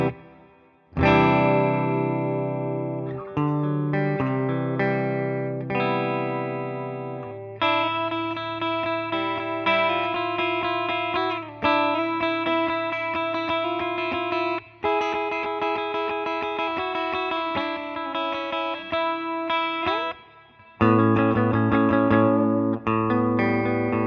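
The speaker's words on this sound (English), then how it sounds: "That's just screaming for some reverb. Get some of that plate on there." An electric guitar played through an IK ToneX plays chords and sustained notes with a lush, shimmering plate reverb tail that lingers between phrases.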